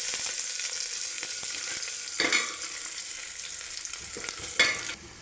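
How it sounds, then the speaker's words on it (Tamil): Sliced onions dropped into hot oil with popped mustard and fennel seeds, frying for tomato kurma, a loud continuous close sizzle with bursts as more goes in and is stirred. "இப்போ வந்து நம்ம வெங்காயம் போடணும்."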